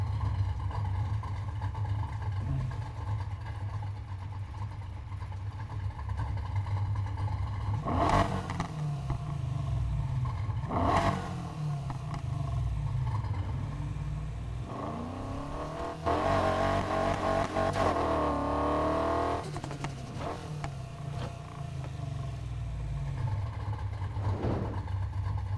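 A forged 4.7-litre V8 car engine in the racing game Need for Speed Heat hums steadily, with sharp blips near the start and a rising, revving surge in the middle as the car accelerates; no talk is heard.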